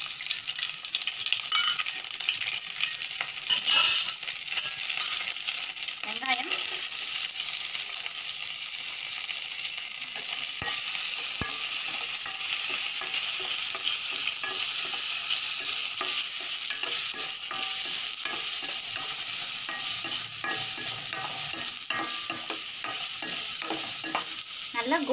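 Onions and whole spices fry in oil in a pan for masala pasta, giving a loud, constant, crackling sizzle with occasional stirring scrapes, continuing steadily throughout without speech.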